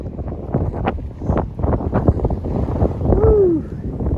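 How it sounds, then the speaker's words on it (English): Strong gusty wind buffets the microphone on a mountain trail along the Appalachian Trail in early morning, a loud continuous rushing roar with irregular surges that dominates throughout. "I know it's windy"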